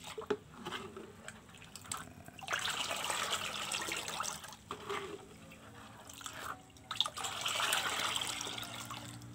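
Liquid mixture being stirred for plant air-layering (cangkok) preparation, a wet sloshing and trickling that swells and fades in uneven waves at close range, with no one speaking.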